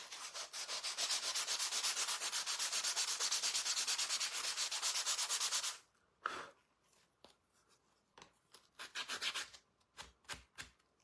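A wooden farmhouse frame is sanded by hand with sandpaper, first a rapid, steady back-and-forth rasping for several seconds, then a run of irregular, separate scrapes and rubs, close and alone.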